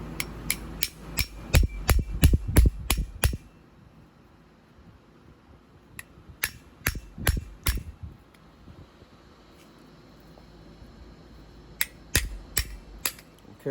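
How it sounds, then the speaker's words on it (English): Rapid series of sharp metallic hammer strikes on a Honda Odyssey sliding door roller, then a quiet pause, another burst of blows, a longer lull, and a final flurry of taps. "Now you can get a hammer, and we're gonna hit it right here."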